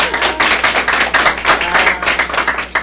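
A book-forum audience gives a round of applause for a best-selling author, brisk dense clapping close and loud, sustained throughout without speech.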